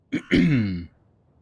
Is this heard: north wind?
no